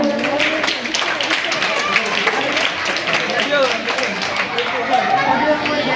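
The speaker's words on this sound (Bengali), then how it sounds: "সবাই হাততালি দেবেন।" An audience claps at a school guest-welcome ceremony at Mahendra High School, dense, steady applause mixed with lively crowd chatter and voices throughout.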